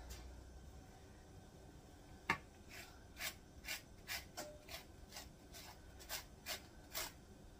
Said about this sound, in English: Alright, so now we're going to use some zest.